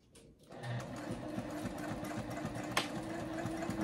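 A sewing machine stitches a circle bag close to the top stitch, starting after a brief quiet moment and then running with a steady, close, rapid mechanical chatter.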